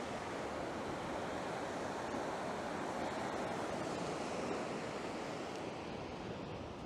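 Choppy sea waves and a roughly 14 mph wind on Easington Beach, Holderness Coast, form a constant broadband rush of surf and gusting air, steady and fairly quiet, with no one talking.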